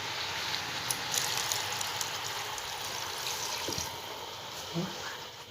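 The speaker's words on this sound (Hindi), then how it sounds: "अब हम इसमें 1 गिलास पानी डालेंगे।" A glass of water is poured into a cooking pot of kaddu gosht, a pumpkin and meat curry, making a close, steady splashing rush that tapers off toward the end.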